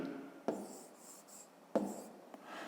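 A pen writing on paper while filling in a table for a fifth-grade maths exercise, with soft scratchy strokes and two sharp taps as the pen touches down, close and quiet.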